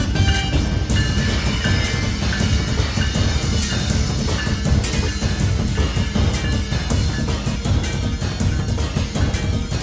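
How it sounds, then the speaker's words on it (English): An eastbound CSX manifest freight train with a single lead locomotive roars past close by, a loud continuous rumble of wheels and rattling cars with steady clatter throughout. "This next train was an eastbound CSX Manifest, also having a single leader on it."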